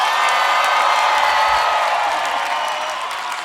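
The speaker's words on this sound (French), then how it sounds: "Est-ce qu'on peut applaudir Divin à la guitare?" An audience at a live music event claps and cheers for a guitarist, with dense, sustained applause and scattered whoops that taper off slightly toward the end.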